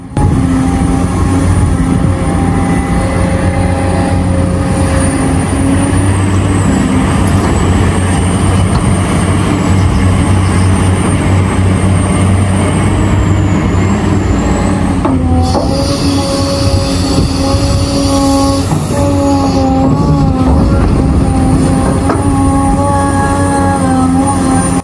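CAT 374D and 365C excavators load trucks at a worksite, producing a loud, unbroken diesel and hydraulic roar with a low rumble, shifting whines and occasional metallic squeals, close and without speech.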